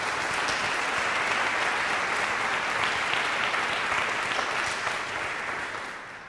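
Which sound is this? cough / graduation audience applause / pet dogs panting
graduation audience applause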